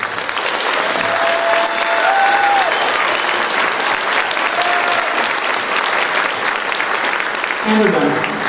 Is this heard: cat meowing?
no